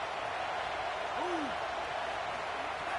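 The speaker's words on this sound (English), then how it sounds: "Decibels rising as the crowd gets behind this defense on third down." Stadium crowd noise in a College Football 27 game, a steady wide roar swelling on a third-down defensive stand, continuous and loud throughout with no distinct voices standing out.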